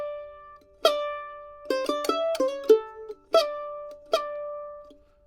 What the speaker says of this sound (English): I'm going to do this pull-off down to my second finger.